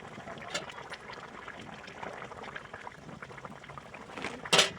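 A fish curry with vegetables and fried fish bubbles in a pot, a soft steady simmer with liquid bubbling, ending in a brief louder splash or clatter near the end.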